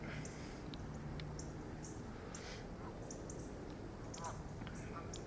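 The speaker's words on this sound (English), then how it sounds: "There's a bunch of ducks and geese out there." Scattered duck quacks, some near and some distant, from ducks and geese at dawn, over a steady outdoor background hiss, with occasional faint calls from other birds.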